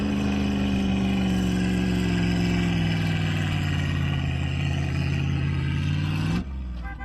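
Off-road vehicles, a Unimog, Land Rover Defender V8, Discovery 2 V8 and Discovery 3 V6, rev hard in a tug of war, making a loud, sustained low engine roar that rises in pitch and then drops off abruptly near the end.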